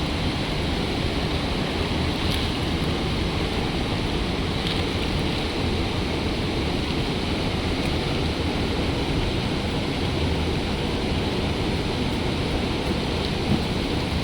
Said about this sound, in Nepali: खोला यहाँ छ